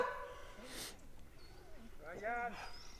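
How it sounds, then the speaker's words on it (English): A dog on a hiking trail gives short yips and barks with some whimpering, faint and at a distance. "Who's barking?"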